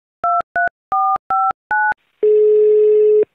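A telephone call being placed: a series of short electronic dialing beeps, then a long steady ringing tone, clear and close with no voices.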